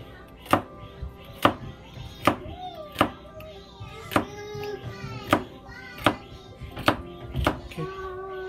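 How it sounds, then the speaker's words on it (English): A knife chops celery on a cutting board in about nine evenly spaced, sharp thunks, up close, with faint background sounds between the strokes. "This celery, we cut this part off, and this part off, and after that we just cut it like this."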